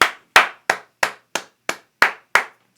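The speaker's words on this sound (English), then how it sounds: "Whole lot of clapping sounds" Eight sharp, evenly spaced claps ring out at a steady rhythm of about three per second, each crisp and distinct with a short decay between them, close and clear with no talking.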